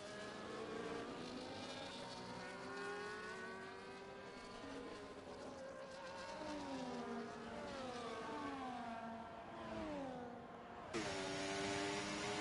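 Several race car engines in a sim racing game at COTA (Circuit of the Americas) rev up and down through the gears, rising and falling continuously, with no talk over them.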